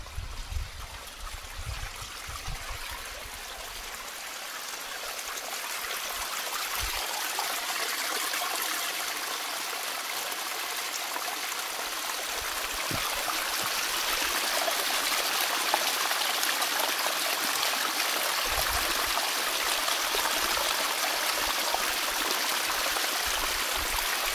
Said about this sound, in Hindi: देखिए पानी की कलकल आवाज आप सुन पा रहे होंगे।